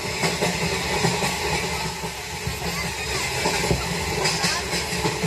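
A passing train rumbles steadily and close by, with broad wagon noise and faint rail hiss running throughout.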